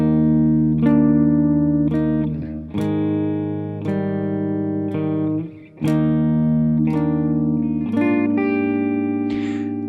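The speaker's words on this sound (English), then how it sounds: "we'll kick back in with that clean intro guitar part" A clean electric guitar plays the intro part of a song, ringing picked notes and chords with reverb, loud and close, with a brief dip in volume midway and no voices.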